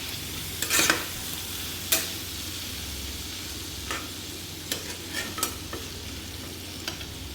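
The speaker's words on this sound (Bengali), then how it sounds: "এবারে আমি সবজিটার মধ্যে হালকা হলুদ দিয়ে দিচ্ছি। দিয়ে সবজিটা আমি একটু নাড়ব।" A spoon stirs vegetables with turmeric in a frying pan, several scraping strokes and clinks sounding over a low, steady sizzle, close and without talk.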